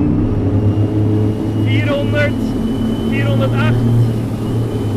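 An electric car accelerating during a Delta test: a steady, low motor hum throughout, while a voice briefly speaks over it.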